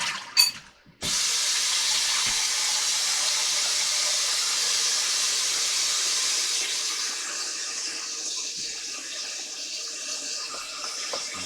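Prawn fried rice stir-fried with soy sauce, a dash of sugar and pepper, giving a loud continuous sizzle and hiss in the pan that begins after a short clatter and runs steadily with no talk.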